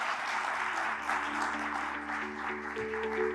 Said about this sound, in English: Please, Mr. Fetisov, another round of applause, everyone, for his outstanding contribution to global journalism.